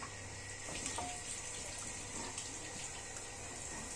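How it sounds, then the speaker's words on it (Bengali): Water pours from a tap or is tipped into a pot of simmering red lentils, a faint continuous trickling splash over a low background hum. "এখানে সামান্য একটু পানি দিয়ে দেব।"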